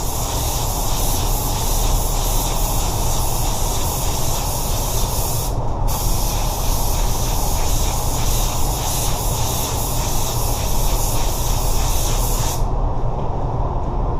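Spray gun applying car paint for a small blend, a loud continuous close hiss of atomized paint held nearly throughout, with one brief pause before resuming.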